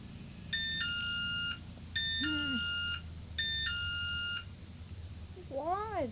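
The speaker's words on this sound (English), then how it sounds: "Why is this magic farm always a beeping?" Repeated electronic beeping inside the Farm Life 3 video game, three bursts of stacked tonal beeps about a second each with short gaps, followed by softer rising-and-falling chirps near the end.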